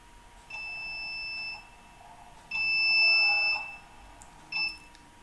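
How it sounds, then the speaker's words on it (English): An ARM board drives a buzzer in roughly one-second bursts, producing three clear, piercing electronic tones separated by silences, the last burst shorter. "Now a buzzer is making a buzzing sound."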